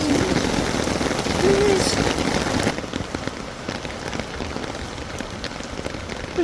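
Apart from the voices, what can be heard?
heavy rain falling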